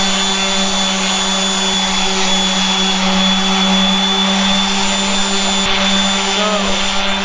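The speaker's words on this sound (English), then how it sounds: "oh, dude, the Harbor Freight grinder" Harbor Freight grinder running loud and close, a constant steady motor whine with a strong hum that holds without a break, while people talk faintly underneath in a garage working on a Miata bumper.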